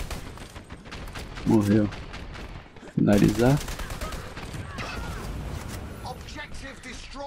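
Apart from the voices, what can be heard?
gunfire in the video game Dirty Bomb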